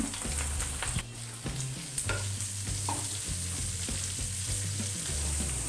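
Sliced garlic fries in a pan for a Catalan salt cod dish, a constant bright sizzle and crackle under repeated rhythmic scraping and stirring, close and steady with no voices.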